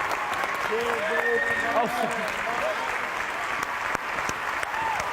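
Studio audience applause and cheering fill a talk-show set as a presenter welcomes back a contestant evicted from Big Brother Canada 2018, steady and fairly loud with voices calling out over the clapping.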